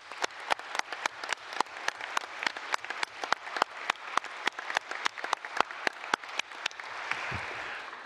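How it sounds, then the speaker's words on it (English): Conference audience applause, fairly faint and sparse, with distinct individual claps in a steady rhythm from a modest crowd, fading out near the end. "Please join me in that thanking applause."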